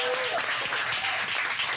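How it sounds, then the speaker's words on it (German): An audience at a late-night German music show claps and cheers for a musician, a dense burst of applause heard close and filling the short moment. "Und der Applaus für Musiker Nummer 1"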